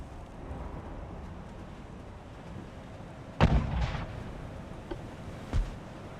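Naval gunfire from warships in the Ultimate Admiral: Dreadnoughts game: a loud booming shot breaks a low rumble, then a second, smaller boom follows a couple of seconds later.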